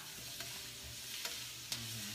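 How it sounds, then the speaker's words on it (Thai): Steady sizzling from a hot pan as food is stir-fried, with occasional scraping clinks of a utensil against the metal. "ผัดลงไปค่ะ"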